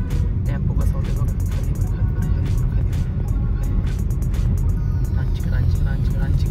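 A tempo rumbles past on a road with a steady low engine drone that stays loud throughout, while a person talks over it in the foreground.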